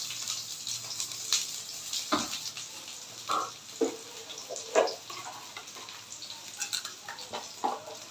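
Onions land in hot oil in a wok for haleem, giving a soft crackling sizzle with scattered stirring clanks and scrapes at a moderate, close distance.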